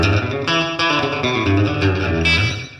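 An electric guitar plays sustained chords with a lush reverb tail, notes blending and ringing on, fairly loud and continuous.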